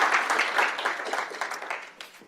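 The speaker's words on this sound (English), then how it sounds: "please, with a round of applause," An audience claps steadily to welcome a discussion panel, dense close applause that gradually fades out over a couple of seconds.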